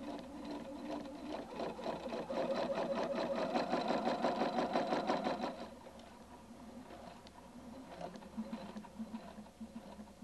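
A Husqvarna Viking Designer II sewing machine runs in a fast, rapid stitching burst lasting a few seconds, then slows to a quieter, softer whirr, heard near and clear without talk.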